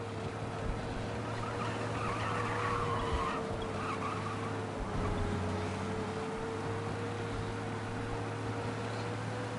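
A car speeds along during a police chase in the Mafia Definitive Edition video game, its engine a steady droning hum under faint tire and road noise, continuous and moderately quiet throughout.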